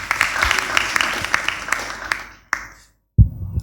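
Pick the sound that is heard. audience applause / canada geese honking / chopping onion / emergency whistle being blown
audience applause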